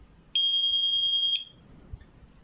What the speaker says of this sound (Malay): bukan jari yang betul,